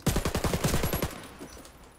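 A CZ 805 Bren A2 rifle in the video game Warface fires a rapid burst of about ten shots in roughly one second, loud and punchy, followed by a short fading tail.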